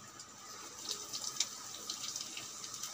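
Tap water runs into a sink during washing up, a soft, steady, faint splashing stream.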